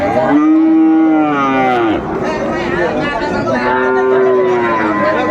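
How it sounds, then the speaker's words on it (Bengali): Sahiwal and Friesian cattle at a cattle market in Mymensingh give two long, loud, close moos over a steady murmur of crowd chatter. "কেমন দামে সাইওয়াল এবং ফ্লাগবি জাতের গরুগুলো বেচা কেনা হচ্ছে"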